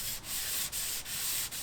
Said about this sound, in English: what I'm doing now is sanding it to get it smooth, making sure we don't have any bubbles